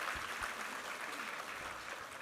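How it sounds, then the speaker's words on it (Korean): A church congregation at a Sunday worship service claps together, producing a faint, steady patter of applause that continues throughout. "우리 하나님께 감사와 영광의 박수 올려드리겠습니다"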